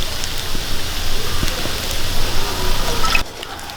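Coconut oil is poured over hot Kerala-style beef fry with coconut pieces. It makes a loud, close, crackling hiss that runs steadily for about three seconds and then cuts off abruptly.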